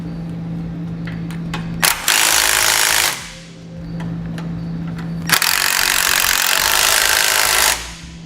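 Power tool driving a 12mm socket to tighten bolts while a Blue Ox base plate is installed on a 2009 Subaru Forester, two loud sustained buzzing runs of about a second and two seconds with brief clicks between.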